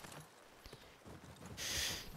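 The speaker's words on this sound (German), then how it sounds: "Pferdchen." A horse walks along in The Last of Us Part II, its hooves clip-clopping in a few faint, irregular steps under a soft hiss of game ambience.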